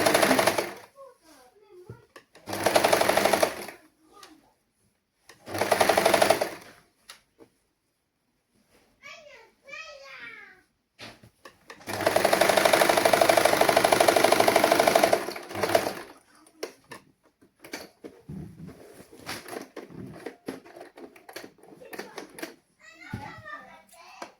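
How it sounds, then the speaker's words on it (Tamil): Sewing machine stitching the sleeve of a saree blouse, running in short bursts of a few seconds with one longer steady run, fairly close, with someone talking in the pauses between stitching. "இப்போ நான் நேராக நான் வச்சு தான் நான் தைச்சு கொண்டு போகிறேன்"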